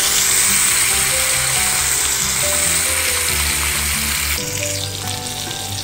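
Marinated pomfret fish sizzles steadily in hot oil, a loud, close, continuous frying crackle with no voices.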